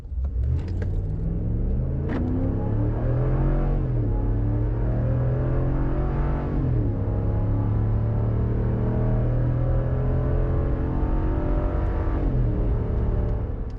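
Big V8 pickup truck accelerating hard while towing a trailer, a loud continuous engine roar that climbs in pitch through several gear changes, close and without talk.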